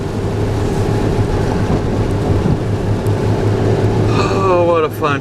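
A car drives through traffic on a wet road on a cold, rainy morning, giving a steady, close rumble of tires and engine, with a brief rising tonal sweep near the end.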